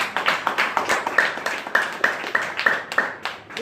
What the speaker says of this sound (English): I want a clap for him.